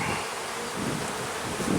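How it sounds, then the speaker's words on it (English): Honey bees in a crowded hive box drone in a dense, steady buzz close up, with a continuous hum and no other sounds. "there's a lot of bees in here"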